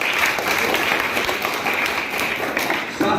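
Schoolchildren and audience clapping loudly at a Gandhi Jayanti quiz competition in a school, a dense, steady burst of applause lasting a few seconds, close and continuous.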